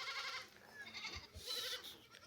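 A goat bleats repeatedly in wavering, nasal cries, fairly close, with no talking.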